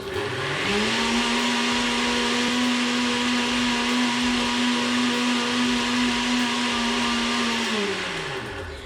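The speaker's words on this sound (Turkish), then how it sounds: "tabii bu mikserde kalanı ziyan etmeyeceğiz. Şu kalan suyu döküyorum içine. Şimdi bu sefer yüksek devirde çalıştıracağım yine." Blender whirring at high speed through leftover almond pulp and water, a loud steady high-pitched motor whine that spins up quickly, holds for several seconds and winds down at the end.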